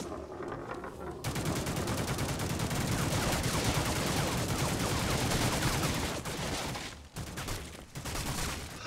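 Sustained, dense rapid gunfire in the plastic army-men shooter Mean Greens Plastic Warfare, loud and continuous bursts with brief gaps near the end.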